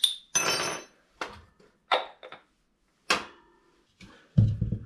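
Bread dough is stirred in a bowl, with a spoon knocking and scraping against the sides in separate clattering strokes, about eight short bursts with pauses in between, close and fairly loud.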